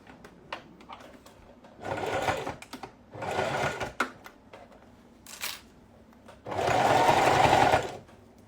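Domestic sewing machine stitching zigzag seams while sewing a fabric school pencil case, running in several bursts of steady whirring, the last and loudest lasting about two seconds, with quiet handling noises between runs.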